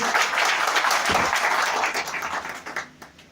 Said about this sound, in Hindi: तो हम चाहेंगे इसके लिए एक बार जोरदार ताली मारिए